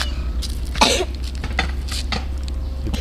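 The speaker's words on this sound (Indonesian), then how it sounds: "Yang takut sebab saya batuk." A person coughs once, close and fairly loud, in a quiet indoor room, with a few light clinks and faint rustling around it.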